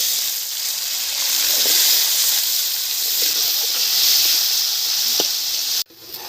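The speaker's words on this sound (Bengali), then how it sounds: "মূলোগুলো তুলে দিচ্ছি তেলের মধ্যে।" Radish pieces frying in hot oil, a loud continuous hissing sizzle heard close up for several seconds before cutting off abruptly near the end.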